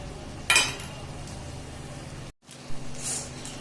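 A spoon stirs cauliflower curry with crushed peanut powder and makhana in a pan, a sharp scrape of metal near the start and then soft, steady sizzling and shuffling, loud and close, with no talking.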